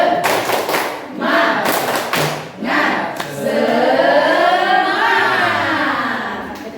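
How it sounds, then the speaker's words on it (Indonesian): A classroom group performs the tepuk semangat rhythmic clapping cheer, several bursts of sharp, loud claps in a patterned rhythm, followed by voices chanting and talking together. "Tepuk semangat."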